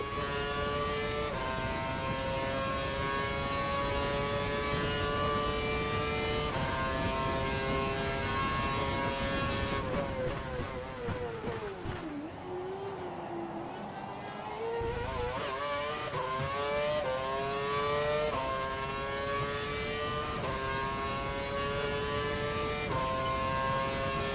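Formula 1 race car engine in the F1 2012 video game at the Korean Grand Prix: a high-pitched, steady engine whine shifts through the gears, dips as the car lifts off and slides wide, then climbs again.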